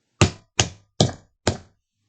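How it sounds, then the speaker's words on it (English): Four loud, heavy knocks bang on a door at an even, deliberate pace, each a sharp thud with a short decay, standing alone against silence as a story sound effect. "there was a great banging at the door."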